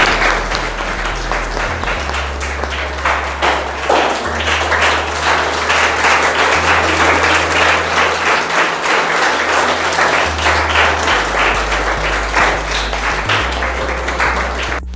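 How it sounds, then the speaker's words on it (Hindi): Students give sustained, dense applause to welcome visiting IPS officers at a career guidance session in a library hall, with steady close clapping throughout and a low hum underneath. "मैं बच्चों से कहूँगा कि उनका स्वागत करें तालियां बजा करके"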